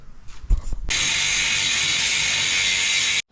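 A ratchet spins in one continuous, loud, close burst while undoing a bolt on a rev 5 Toyota MR2 during a coilover install, preceded by brief clanks.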